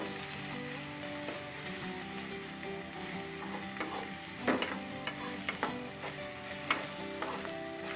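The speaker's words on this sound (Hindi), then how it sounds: "फिर इस तरीके से आप मसालों को उस मिश्रण में भूनेंगे।" Spices roast in a masala mixture for Indian-style masala macaroni, crackling steadily in the pan while a spoon scrapes and taps against the metal in irregular knocks.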